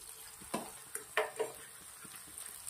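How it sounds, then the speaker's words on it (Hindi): Garlic frying until red in a pan for a Kathiyawadi green onion and gathiya curry: a soft, steady sizzle with a few louder scraping stirs, faint and close, with no talking. "लहसुन बढ़िया सा एकदम लाल होने देंगे, लहसुन अच्छा लाल होगा तो सब्जी अच्छी बनेगी।"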